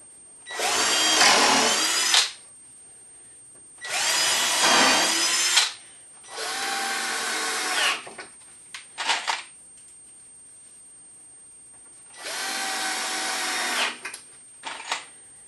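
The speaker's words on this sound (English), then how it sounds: "Now I'm just going to countersink them and put the screws into them." A power drill countersinks and drives screws into wood while building an outdoor potting bench: four loud, sustained whirring bursts of about two seconds each, separated by pauses and a few short clicks.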